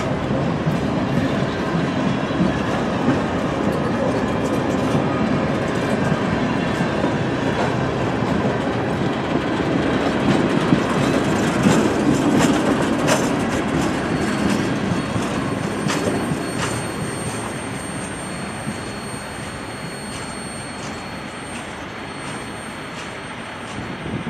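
A long CSX grain train led by EMD SD70MAC locomotive 4814, built in 2004, rumbles past steadily with wheels clicking over rail joints, loud and close, before easing off slightly toward the end.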